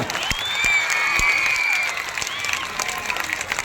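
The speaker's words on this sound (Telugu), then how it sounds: "పైకి చప్పట్లు అడిగాను గట్టిగా" An audience at an official public event in Andhra Pradesh claps together in a sustained burst of applause lasting a few seconds, fairly loud and close, with no talking over it.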